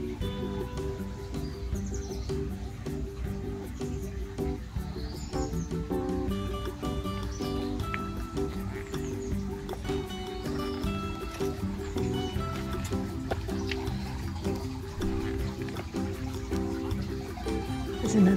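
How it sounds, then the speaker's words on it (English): Gently flowing water in a garden in Goult in the south of France, a soft continuous trickle with birds chirping here and there and a voice faintly in the background, steady and fairly quiet throughout. "Can you hear the water?"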